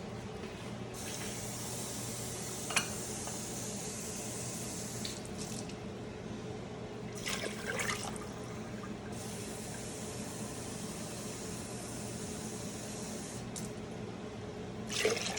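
Water is poured into a pot to make sugar syrup for sweet colored rice in a Punjabi kitchen, a faint, steady splashing stream that runs for several seconds and then trails off into quiet room tone.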